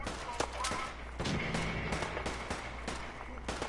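Gunfire in the Fallout 4 video game, a run of sharp individual shots spaced irregularly across a few seconds, each a crisp crack over a low hum, with a brief mechanical clatter in between.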